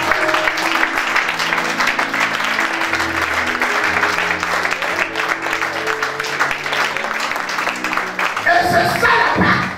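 A church congregation applauds the Lord at an Easter service, with sustained, steady clapping from many hands over music and voices, loud and continuous throughout.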